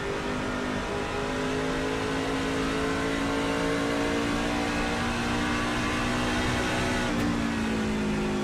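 An on-board racing truck engine from a Lonestar Racing Truck Series race at Iowa drones loudly at high revs, steady and close, with a slight pitch dip near the end.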